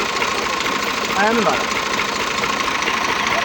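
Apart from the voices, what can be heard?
tractor engine idling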